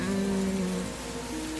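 Steady rain hisses in a dense, even wash for a brief moment while a low sustained tone sounds over it.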